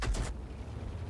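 An FV304 tank in a video game fires its gun: one sharp, loud blast in the opening instant, then a short rumbling decay with no talking.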